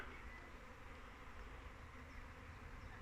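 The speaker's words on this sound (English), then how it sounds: "The bees are going crazy." A dense, steady buzzing of many bees at an allotment, faint and continuous, like a swarm hovering nearby.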